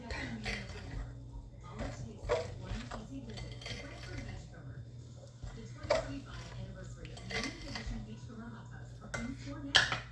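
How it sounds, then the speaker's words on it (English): A utensil stirs scone dough of flour and milk in a bowl for Scotch scones, giving steady clinks and scrapes against the bowl, with a voice talking underneath. "Mix everything up"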